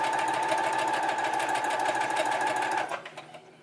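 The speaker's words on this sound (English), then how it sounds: "I'm going to back stitch all the way to the dart point if I can, and then I'm going to continue to sew forward" A sewing machine stitching a lace wig cap runs in a fast, steady whirring hum for close to three seconds, then slows and stops with a few fading mechanical clicks, close up with no talk.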